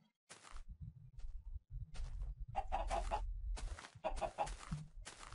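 Chickens clucking in Minecraft, several short bursts of clucks and squawks from the game's fowl that come in uneven, close-up clusters over low background rumble.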